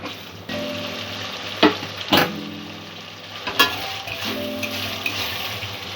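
Spice masala for a vegetarian jackfruit curry being stirred in a hot pan, steady sizzling and frying with several sharp spoon scrapes and clinks against the metal, close and without talk.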